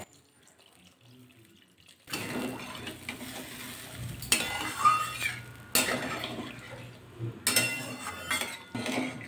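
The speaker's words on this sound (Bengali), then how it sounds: "জল দিয়ে ভালো করে মিশিয়ে নিলাম" A spoon scrapes and clinks against a pan as potol and potato curry is stirred after water goes in, with sloshing liquid and short bursts of metallic stirring between quiet pauses.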